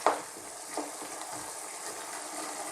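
Chicken liver and gizzard adobo with spring onions stirred in a hot pan, a steady sizzling hiss with a couple of soft utensil scrapes, close and continuous without speech.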